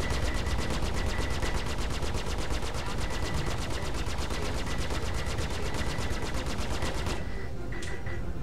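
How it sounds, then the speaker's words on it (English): Rapid sustained machine-gun fire from a ship in a Star Citizen space dogfight, loud and continuous with a steady rattling rhythm for several seconds before it abruptly cuts off. "Yep, so I'm still getting shot at."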